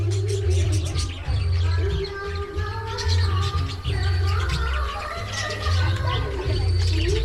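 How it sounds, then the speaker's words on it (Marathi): Lovebirds chirp beside a small decorative bridge and well, giving repeated short tweets mixed with people talking nearby. "इथे बाजूला पक्षी पण आहेत."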